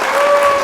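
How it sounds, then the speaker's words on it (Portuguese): Applause from a class or audience marking the close of a PET history lesson, a steady dense clapping that holds loud and continuous, with a faint tonal hum running underneath. "Eu peço aí uma salva de palmas"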